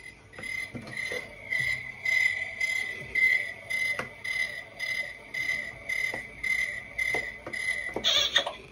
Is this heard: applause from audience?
no